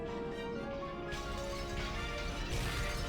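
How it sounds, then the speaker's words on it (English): Glass shatters and heavy knocking thuds sound through a mansion in the Umineko visual novel, as a dense, harsh crash that keeps going and gets louder about halfway through, with no voices. "All over the mansion, there were loud beating sounds that might be called knocks and the sound of shattering glass"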